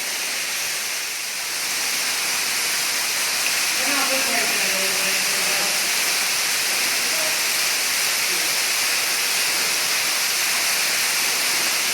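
Waterfall inside a cave, a steady broadband rush of falling water filling the space at close range while a voice speaks briefly over it.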